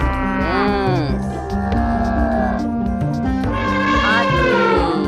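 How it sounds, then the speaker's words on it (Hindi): A water buffalo moos in long, loud, drawn-out calls with rising and falling pitch, repeating across the whole stretch over steady background sound in an animal-themed children's setting. "भैंस"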